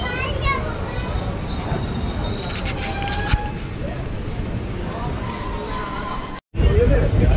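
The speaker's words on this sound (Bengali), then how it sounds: "তো এই যে আমাদের ট্রেন চলেও এসছে। তো এই যে ট্রেনটা, এই ট্রেনটা কিন্তু মানে ইঞ্জিন টানছে" A local passenger train hauled by an express locomotive rolls past loudly and close by in hilly Jharkhand country, with shrill wheel squeals and a steady rumbling roar. Brief speech-like sounds are mixed in.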